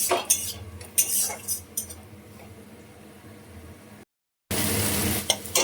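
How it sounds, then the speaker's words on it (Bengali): A spice paste of ginger, garlic, onion, tomato, turmeric and chilli sautéed in a pan, with loud metal scrapes and clanks of stirring over a faint sizzle, a brief silent gap, then a burst of louder frying. "একটু টমেটোটা বেশি দিয়েছি, দিয়ে মশলাটা ভালো করে কষছে।"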